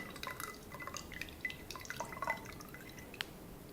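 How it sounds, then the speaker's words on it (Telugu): Tamarind water being poured into another vessel, faint close drips and small trickles of liquid with light glassy plinks, scattered irregularly over a quiet background. "దీన్ని మనము నీళ్ళని వేరే దానిలోకి చక్కగా వంపుకుందాం"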